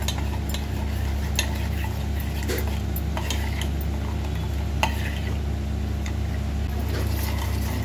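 A spoon scrapes and stirs rice flour into bubbling jaggery syrup in a pot, giving repeated light scraping clicks over a constant low hum and faint simmer, with no talking.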